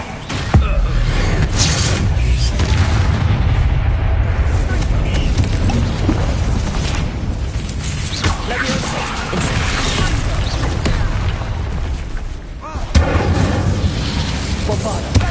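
Bombarda blasting spells in a Harry Potter video game, dense loud crashing explosions and smashes one after another, close and continuous, with voices shouting over the din.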